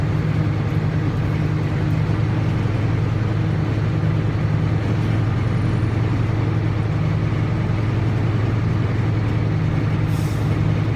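A truck engine raised to build air brake pressure during a CDL pre-trip in-cab inspection, heard as a loud, steady low hum and rumble that holds even for the whole stretch, with no talk.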